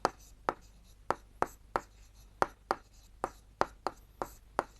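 A pen or pencil writes on paper during a class 7 geometry lesson, making steady, evenly spaced scratchy strokes, close up over a faint background hum.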